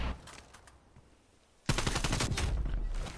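Rapid automatic gunfire from a video game gun bursts in loudly after a quiet stretch, a dense sustained volley of shots running to the end.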